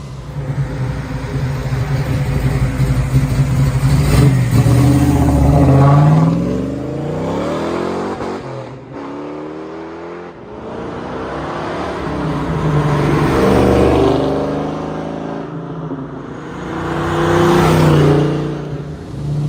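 A 1969 Chevrolet COPO Camaro clone muscle car roars past several times, each pass swelling to a loud engine snarl and fading as it moves away.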